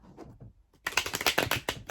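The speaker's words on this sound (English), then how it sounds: "I'm shuffling them back in." A quiet rustle gives way to a brisk riffle of tarot cards being shuffled close by, crisp fluttering taps in quick succession.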